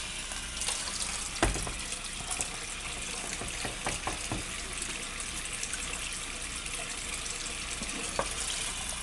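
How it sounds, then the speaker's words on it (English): Water pours steadily into a pot of green beans and potatoes, a continuous hissing splash running unbroken with a few small clinks, close and fairly quiet, no voices. "I'm basically going to cover this with water"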